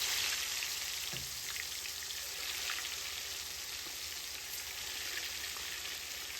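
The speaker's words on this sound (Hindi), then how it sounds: "1 चिकन लिया, डीप फ्राई होने के लिए डाल दिया कढ़ाई में।" Chicken deep frying in oil in a kadai makes a dense, even bubbling hiss with scattered fine crackles, steady and moderately quiet the whole time with no voices.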